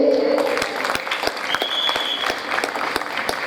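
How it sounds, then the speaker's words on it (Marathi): Students clapping at a college gathering day, a sustained round of applause from a seated crowd that holds steady for a few seconds, moderately loud with faint murmuring mixed in. "विद्यार्थ्यांनी टाळ्या वाजवायच्या आहेत"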